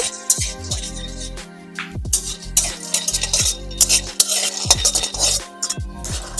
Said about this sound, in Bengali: আমরা বাদামটা ভেজে নিচ্ছি